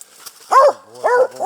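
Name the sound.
hunting dog barking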